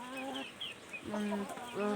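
Chickens in a coop cluck and call in a run of short, tonal bursts, moderately close and fairly steady in loudness, with no other sounds competing.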